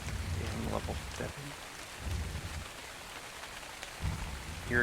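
Rain falling in the video game ARK: Survival Evolved, a faint, steady patter under low rumbling background sounds, with brief soft bursts and no clear voices.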